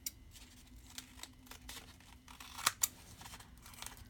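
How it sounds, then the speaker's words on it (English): Scissors snipping paper while trimming pages for a junk journal, a couple of sharp close cuts standing out over soft paper rustling and handling noise. "So I might just have to cut it with a scissor."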